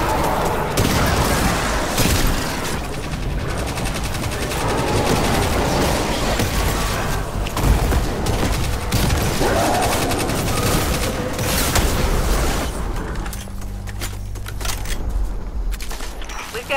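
Dense, continuous gunfire from the video game Destiny 2, with rapid automatic bursts and booming impacts throughout, loud and close, thinning out near the end.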